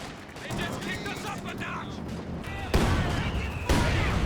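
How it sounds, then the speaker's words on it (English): A heavy mortar barrage from Company of Heroes 2 rumbles under ongoing battle noise, with two loud, sudden blasts landing about a second apart in the latter half. "Does manage to creep in close enough to get the heavy mortar barrage off"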